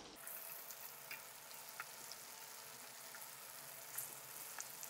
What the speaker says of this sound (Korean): 이렇게 해서 이런 색깔이 전체적으로 앞뒤로 다 날 때까지 튀기셔야 돼요